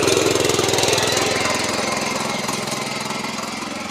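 A Sraja power weeder engine runs steadily during a field demonstration, a loud close chugging small-engine drone with a fast rhythmic knock and no voices over it.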